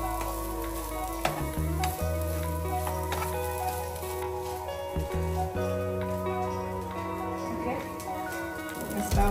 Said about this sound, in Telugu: తాలింపులో కొబ్బరి అనేది బాగా ఫ్రై అవ్వాలి